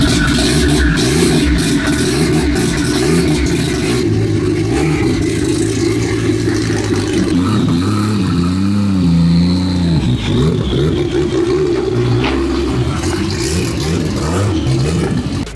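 A drift car rolls off a closed trailer, its engine running loud and close throughout, with revving swells and mechanical clatter as it is driven down.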